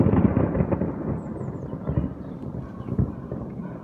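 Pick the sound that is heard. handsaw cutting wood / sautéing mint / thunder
thunder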